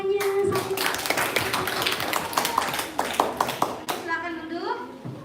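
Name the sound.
children clapping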